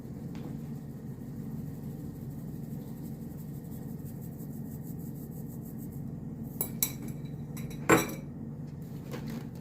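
Eggs with sugar and vanilla are beaten by hand in a bowl, giving a steady soft scraping and rubbing with a few brighter clinks of the utensil against the bowl near the end, close and alone.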